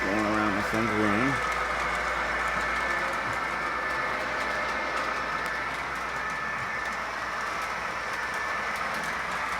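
An O gauge model train with Proto-Sounds runs around a shelf layout in a child's room, a steady rolling rumble and faint clatter of wheels, with a brief electronic horn-like tone at the start.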